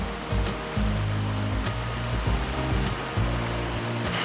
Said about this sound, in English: There's something about a river running over solid stone that just is really appealing to me.